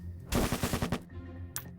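A rapid burst of about seven sharp video game explosions in quick succession, then a single short bang after a brief pause, loud and punchy.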